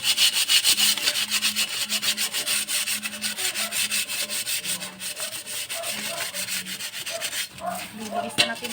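A cooking pot being scrubbed with soap outdoors, steady rhythmic rubbing and scraping strokes, close and fairly loud, continuing throughout with brief pauses near the end.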